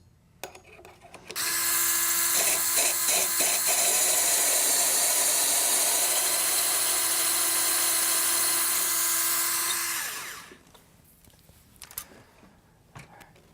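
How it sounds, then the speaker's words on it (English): A powered chamfer reamer cuts bone during hip resurfacing, a loud, steady high-pitched whir lasting about eight seconds before winding down as it bottoms out, with faint clicks before and after. "the chamfer reamer will just come down and bottom out"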